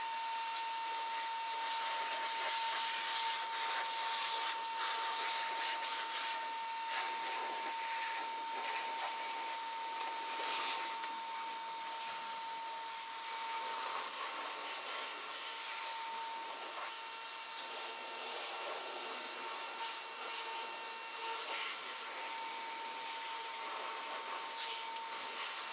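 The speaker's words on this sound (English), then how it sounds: "I'm going to power wash the shit out of this" A pressure washer sprays a car near an apartment in a steady, loud, continuous hiss of water that runs unbroken throughout with a faint constant whine beneath it.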